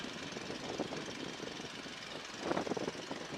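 A biplane engine runs before takeoff with a steady, droning rumble heard from the cockpit, moderately loud and continuous, with a slight swell in the last second.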